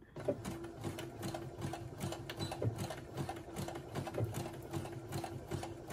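A Brother SE1900 sewing machine runs a zigzag stitch back and forth over elastic, a close, steady, fast mechanical whirring and ticking of the needle with little variation, and no talking.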